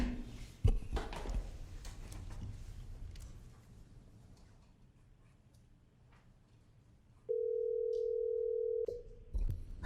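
A steady telephone line tone sounds for about a second and a half near the end as a caller is put through to a county board of supervisors meeting, following quieter room noise and a sharp click.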